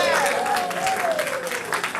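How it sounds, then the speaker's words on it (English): An improv comedy show audience claps and cheers in a dense burst of applause, with a voice calling out over it. "Give yourselves a round of applause"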